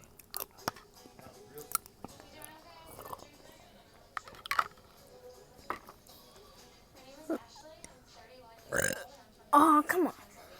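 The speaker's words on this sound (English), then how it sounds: "that's enough burping for today" Repeated burps, some short and sharp, others long and drawn out, ring out loud and close, with a big rumbling belch near the end; a voice talks between them.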